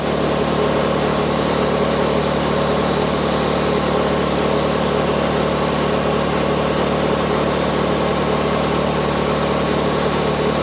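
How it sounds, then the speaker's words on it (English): An air compressor in a scooter fabrication workshop runs continuously, a loud, steady mechanical drone with a low hum that holds unchanged throughout. "So we turn the air compressor on."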